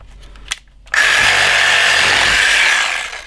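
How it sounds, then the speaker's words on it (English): Small hacksaw cutting through a wild turkey's leg spur, a loud steady rasp that starts abruptly after a faint tap and runs continuously for a couple of seconds, close and alone. "I like to come in here with my little hacksaw, and I'll take this thing and I'll go right under that spur"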